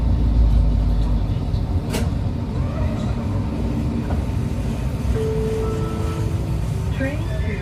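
A Vancouver SkyTrain metro train rumbles past steadily and loudly from start to finish, with a sharp clank near the two-second mark and a faint squeal of wheels or brakes toward the end.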